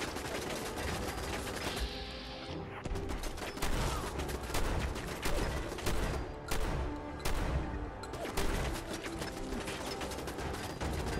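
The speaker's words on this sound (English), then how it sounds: "Oh, it's a shotgun." Shotgun fire in the video game Fallout 4: dense, loud bursts of blasts and mechanical clacks repeating across the stretch, without talk.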